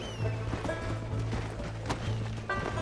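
Horse hooves clip-clop in the Red Dead Redemption video game, a steady run of soft thuds beneath a continuous game soundtrack and low hum, at moderate level throughout.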